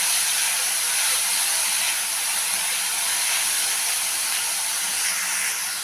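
Chopped carrot, beans and capsicum fry together in a pan for a veg roll, a loud, steady, close hiss of sizzling oil with no pauses and no talking.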